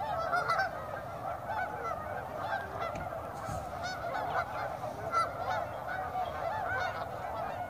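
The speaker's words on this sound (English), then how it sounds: "Tundra swans." Tundra swans calling near Maple Bluff, a steady chorus of honking, bugling calls from a flock, continuous and moderately loud over a background wash, with no talk.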